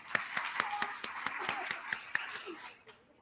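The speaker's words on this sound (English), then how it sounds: "Let's give Elisa a round of applause." An audience at a community panel event claps to welcome a panelist. The claps are few and evenly spaced, sharp and close, and a voice talks softly beneath them before they trail off.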